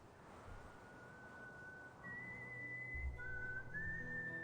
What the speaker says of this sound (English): Oh, so this is the whistle performance.